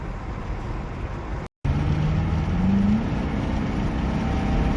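A 2004 Ford Crown Victoria Police Interceptor drives down a road, with a steady engine and road drone heard from inside the car. There is a brief dropout, then a rising tone as it pulls along.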